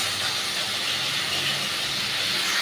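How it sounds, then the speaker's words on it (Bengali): Ginger and garlic sizzle in hot oil in a pan for dry chilli chicken, a loud, steady hissing crackle that fills the whole moment without a break. "আদা রসুনের মধ্যে আমি দিয়ে দিয়েছি, আর তেল গরম হয়ে গেছে"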